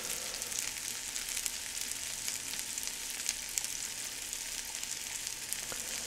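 Shrimps reheating in a hot pan give off a steady, quiet sizzle with faint crackles, continuous and close with no voices.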